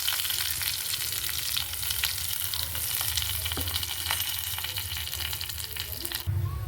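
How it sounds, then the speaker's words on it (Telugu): Curry leaves and asafoetida hit hot oil and crackle into a loud, dense sizzle, close by and steady, with a few stirring scrapes and a sharp clink near the end. "ఇప్పుడు దీంట్లో కరివేపాకు కొద్దిగా ఇంగు వేస్తున్నాం కొద్దిగా"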